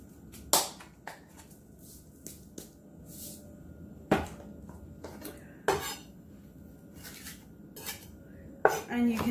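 Garlic pressed and chopped with salt on a cutting board by a knife, heard as scattered sharp knocks and scrapes of the blade against the board, some louder than others, with a faint metallic clatter near the end and no talking.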